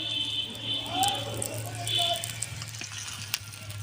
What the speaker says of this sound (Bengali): পরোটার চারিদিক দিয়ে আবারও দিয়ে দেবো তেল এইভাবে ঘুরিয়ে ঘুরিয়ে